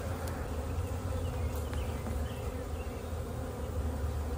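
Honey bees hum and buzz around an open hive during a split, a dense steady drone close by with individual bees zipping past, no voices.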